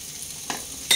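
Masala chickpeas and potatoes fry on a medium flame, a quiet steady sizzle with two brief stirring scrapes in one second.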